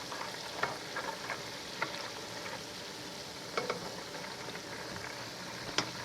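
Butter simmering in a pan while being cooked down into ghee, a soft continuous fine bubbling fizz with occasional small pops and spoon clicks, quiet and close.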